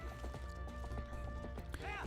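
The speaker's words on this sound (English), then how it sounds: "all you just gotta do is herd all the goats with Epona" Epona, the horse in the video game The Legend of Zelda: Twilight Princess, gallops while herding goats, a quick rhythmic clip-clop of hooves with a whinny near the end, over steady game music.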